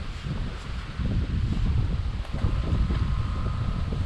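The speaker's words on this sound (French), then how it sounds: "il y a le vent qui est un petit peu en train de se lever" Steady low wind gusts buffet the microphone outdoors during a fishing outing as the breeze picks up, a continuous rumbling roar with no voices.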